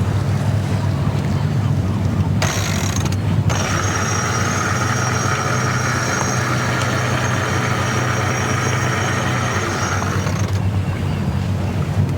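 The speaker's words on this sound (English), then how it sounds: "So we're sailing. It's only about 8 knots forecasted." Outremer 48 sailing catamaran under sail in light wind of about 8 knots, giving a steady broadband rush of wind and water along the hull with a brief louder gust partway through, no talk.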